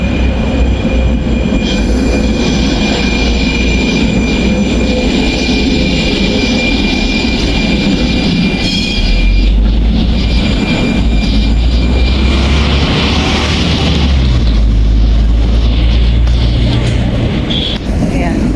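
A train passing close by in the Czech Republic, a loud continuous rumble of rolling cars and wheels with a metallic squeal, while a person speaks over it.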